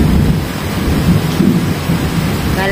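Heavy rainstorm with thunder rumbling low and continuous beneath a dense, steady roar of pouring rain, loud and close throughout, with no voices.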